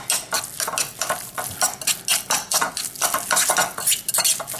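Chicken dumpling filling with ginger, hoisin sauce and green onion mixed briskly in a bowl, giving rapid, rhythmic wet slaps and scrapes, close and fairly loud, with no talking.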